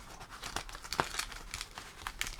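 Plastic trading card tripack packaging being torn and peeled open by hand, a steady run of close crinkles and short ripping bursts with no talking.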